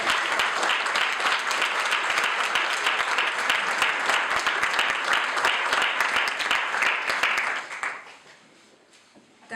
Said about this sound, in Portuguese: Bem-vindos e bem-vindas, uma grande salva de palmas.